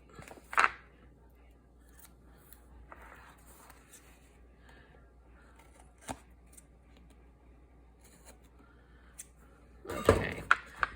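Scissors trimming paper while building an accordion-spine art journal: a few sharp, close snips and rustles spaced apart, with quiet handling noise between them and a louder cluster near the end.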